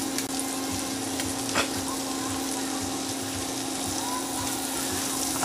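Butter sizzles steadily in a frying pan while chicken stroganoff cooks, a continuous close crackling hiss with a faint tonal hum under it.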